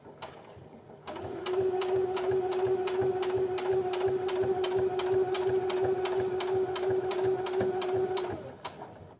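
A sewing machine stitches a round bag at steady speed, a loud close whirring hum with a rapid even clicking of the needle, starting abruptly after a quiet second and running to the end.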